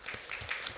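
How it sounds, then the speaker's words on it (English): An audience at a forum on historically Black colleges and universities gives a brief, dense round of applause, heard fairly faint and distant with no voices over it. "I'd like to give you a round of applause for that"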